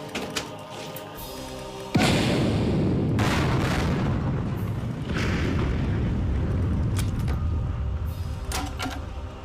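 A grenade goes off in a horror movie scene: a sudden, loud blast erupts about two seconds in and rolls into a sustained, heavy roaring rumble that fills the rest of the clip, with no voices.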